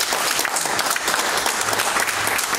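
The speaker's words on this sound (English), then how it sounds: "Give the Lord a hand clap" Church congregation clapping together in a steady, dense burst of hand claps that fills the room, loud and continuous with no talking over it.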